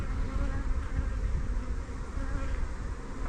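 A honeybee swarm at an apiary makes a dense, continuous buzzing hum, loud and close, as many bees fly around together.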